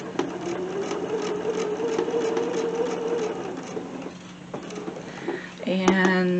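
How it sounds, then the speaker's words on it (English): A Bernina sewing machine stitches 5.5 inch fabric squares at a 2.5 mm stitch length, a steady close mechanical whir that runs off the end of the fabric, then slows and stops with a few clicks. "I'm going to sew right off the end"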